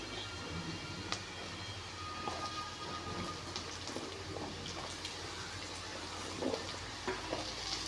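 Ridge gourd sizzles as it fries in a pan, a steady close hiss of frying with occasional soft stirring scrapes and crackles.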